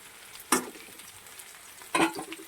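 Jackfruit fries in oil in a pan, a low steady sizzle broken by two louder stirring scrapes about a second and a half apart, close by and without talk.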